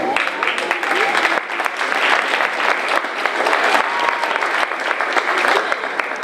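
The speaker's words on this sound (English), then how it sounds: "Can we give her another round of applause, please?" An audience claps at a school Veterans Day ceremony, a dense sustained round of applause from a crowd indoors, steady and fairly loud for the whole stretch.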